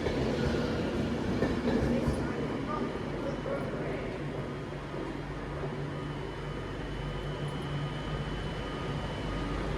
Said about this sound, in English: 390045 heading off to Manchester Piccadilly.